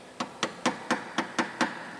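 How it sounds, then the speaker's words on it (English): A small hammer taps a brake line bracket into place on an FL5 Civic Type R, seven light, evenly spaced metallic taps close by in a quiet setting. "I'm going to use this same flathead screwdriver and a small hammer, and I'm just going to gently tap this into place"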